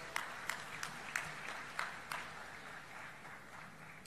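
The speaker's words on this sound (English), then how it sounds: "A big round of applause." An audience at an inaugural function applauds faintly and at a distance, with scattered individual claps standing out above a soft patter for a few seconds.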